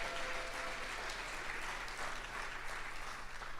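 Audience applause at an alumni achievement awards ceremony, a sustained dense clapping from a crowd in a hall, moderately distant and even throughout with a low background hum.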